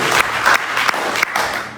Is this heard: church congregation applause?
yes